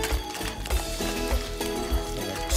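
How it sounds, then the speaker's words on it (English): A whisk clicks rhythmically against a pan of brandy butter sauce with cream and garlic, a fast regular metallic ticking repeating close and fairly loud throughout, with no talk. "Get my whisk and I'm gonna go ahead and"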